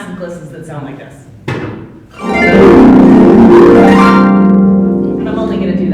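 Huge, sweeping harp glissandos swell in loud and sustained for several seconds, a dense shimmering wash of rapidly plucked strings, preceded by a brief murmur of voice.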